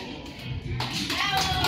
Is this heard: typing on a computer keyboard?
no